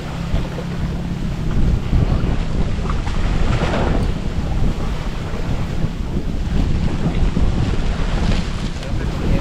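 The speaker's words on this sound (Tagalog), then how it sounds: "Lakas ng alon." Strong sea waves surge around a boat near an island, a dense loud wash of surf and wind buffeting the microphone that swells and eases continuously, close and heard alone.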